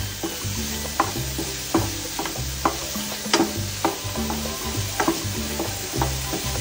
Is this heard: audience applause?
no